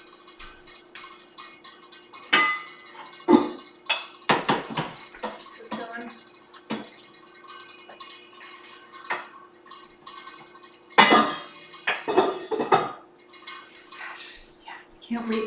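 A pot of veggie-loaded ramen is stirred with a utensil, producing intermittent clinks and scraping knocks against the pot over a low steady hum, with quiet talking in between.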